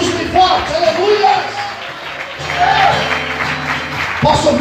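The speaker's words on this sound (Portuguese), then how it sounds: "Aplauda Jesus bem forte" A church congregation applauding during a Portuguese-language sermon, crowd clapping and cheering underneath a preacher's loud amplified voice, with sustained music or organ tones running through the room.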